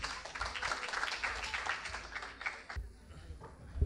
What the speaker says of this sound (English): give a huge round of applause for them.